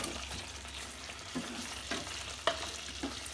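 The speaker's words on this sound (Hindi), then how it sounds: "अभी इसमें हम दे देते हैं फ्राई किया हुआ आलू को।" Fried potatoes are stirred into sizzling masala for Kashmiri dum aloo, giving soft scraping stirs and a steady fry hiss with a few sharper clinks of the spoon against the pan, close and without talk.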